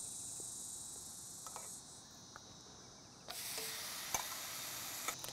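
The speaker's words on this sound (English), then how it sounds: "So the pan's nice and hot, so we'll chuck in our streaky bacon." Streaky bacon goes into a hot pan: a quiet hiss at first, then a louder, brighter sizzle bursts in partway through and continues with a few sharp pops.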